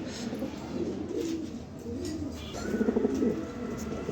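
A pair of Afsan Giribaz pigeons coo softly and repeatedly at close range, with low rolling calls over a steady background murmur.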